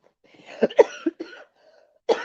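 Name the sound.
coughing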